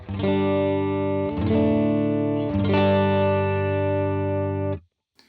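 Electric guitar played clean through a praise-and-worship pedalboard with every effect switched off: three sustained chords strummed in turn, ringing dry and full before a sudden stop into silence.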